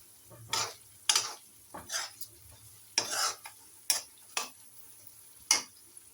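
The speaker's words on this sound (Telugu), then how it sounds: "బఠానీ బాగా ఫ్రై కావాలండి" Peas fry in a pan while a utensil stirs them, producing repeated short scraping and clinking strokes over a faint sizzle at a moderate, uneven pace.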